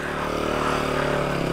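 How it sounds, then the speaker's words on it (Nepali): A motorcycle on a road toward the China border rides off with a steady, droning engine note, fairly close and continuous, and no talk over it. "फाइनली हामी बाइकै लिएर जान पाइयो"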